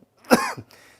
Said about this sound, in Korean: 말을 많이 할수록 기침이 많이 나오나 봐요